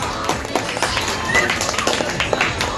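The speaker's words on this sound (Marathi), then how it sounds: "एकदा या सगळ्या महिलांसाठी जोरदार टाळ्या झाल्या पाहिजे" Scattered clapping and applause from an audience at a village women's game show, uneven and moderately loud, with rustling and movement mixed in.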